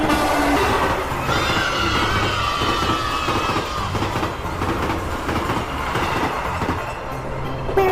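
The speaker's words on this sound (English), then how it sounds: "It's a train." A toy train runs with a steady rumbling clatter and bright tonal whistling that hold loud and unbroken for about eight seconds, with no talking.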